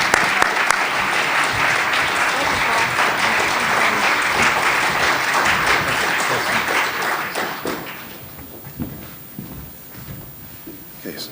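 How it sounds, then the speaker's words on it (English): An audience at a health policy event applauds energetically, the clapping dense and loud for about eight seconds. It then thins into scattered, fading claps and room murmur. "please give them a very energetic round of applause and thank you"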